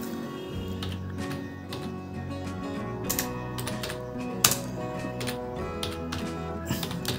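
Sharp clicks from a computer keyboard key being pressed while working in MS Word, set against steady tonal background music.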